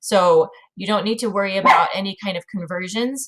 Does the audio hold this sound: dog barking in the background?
yes